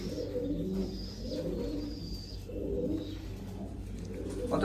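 A female Royal Teddy pigeon coos in two or three soft, throaty bouts close by over a low background hum, with no talking.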